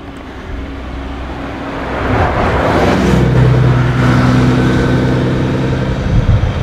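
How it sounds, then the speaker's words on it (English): A bus drives past on a city street, its loud engine rumble and road noise swelling and holding steady as it passes close by, with no talk over it. "I'm gonna be quiet while the bus goes past."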